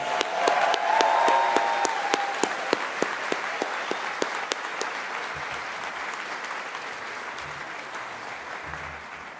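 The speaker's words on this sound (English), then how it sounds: "Can I ask everybody to join me in a round of applause" Audience applause at a university convocation for the Faculty of Architecture and Planning, a broad sustained clapping with a few sharp individual claps standing out, strongest at first and gradually fading over several seconds.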